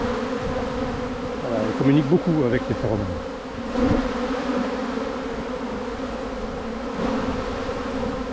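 A recovered honeybee swarm at an apiary hums continuously, with bees buzzing and fanning their wings close by. Someone speaks French over the droning hum.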